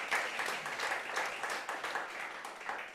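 A small audience at a QPR football club kit launch claps in scattered, uneven bursts, moderately close and fairly quiet, with no talking over it.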